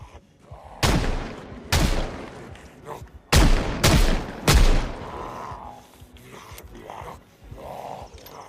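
Gunfire from a gun in the zombie survival game Project Zomboid, four loud sharp booming shots at irregular intervals, each with a rumbling decay, mixed with fainter game sounds and scattered talk.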